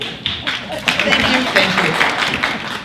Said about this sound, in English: applause from all the short people in the room.